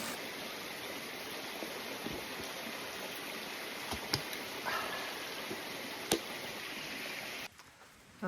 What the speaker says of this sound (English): Here is the stream right here.